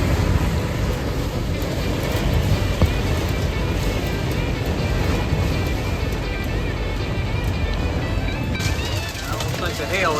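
Heavy rain and hail pound a boat in a marina during a storm, a dense, continuous roar of drumming and splashing with wind, and a person talking under it.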